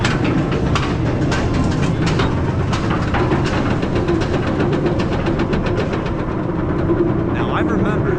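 Front-row ride on Goliath, a B&M hyper roller coaster at Six Flags Over Georgia: a loud, constant roar of wheels, track and rushing wind fills the whole stretch, with rapid clattering bursts throughout.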